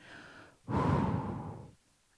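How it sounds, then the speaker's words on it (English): A long, steady exhale through the mouth during a seated resistance press exercise, close and fairly loud, lasting about a second after a softer breath. "Breathing out on the press."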